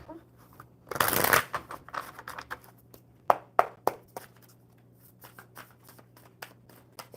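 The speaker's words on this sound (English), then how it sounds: "one more good shuffle for Alina" Tarot cards get one burst of riffle shuffling at close range, then a series of sharp taps and snaps as the deck is squared and handled.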